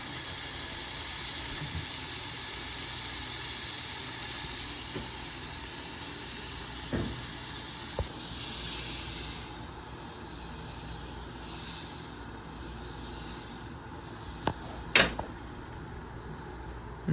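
Butter melting in a hot pan gives a loud, steady broadband sizzle that fades slightly midway, with a few sharp pops and clicks near the end.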